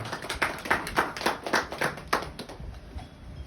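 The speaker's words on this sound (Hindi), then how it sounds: "तालियां बजनी चाहिए इन लोगों के लिए।" A small group at a mindset training session in Ahmedabad claps for a few seconds, individual hand claps audible in an uneven rhythm that thins out and fades near the end.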